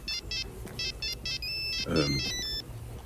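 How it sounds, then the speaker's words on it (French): Telephone ringtone in a repeating pattern of short bright electronic bursts, fairly close and clear, with a brief low murmur partway through. "Et ça va sonner."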